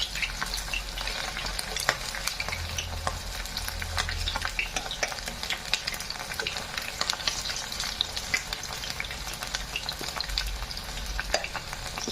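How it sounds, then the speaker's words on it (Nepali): Chicken pieces frying in hot oil for chicken chilli, a steady close crackle and sizzle with scattered pops and the scrape of stirring, continuing without talk. "यसरी चिकनलाई फ्राई गर्न गइरहेको छु"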